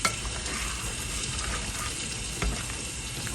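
A delicate soup being gently stirred in a pot, a steady close bubbling hiss with soft scraping strokes, continuous and brief, with a small knock near the end and no voices.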